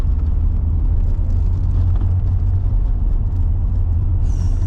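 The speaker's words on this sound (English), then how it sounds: "There's a white car coming, I think. A couple of motorbikes." Road traffic with a white car and a couple of motorbikes approaching, heavy low engine rumble building steadily and loud throughout, with a brief higher whine near the end.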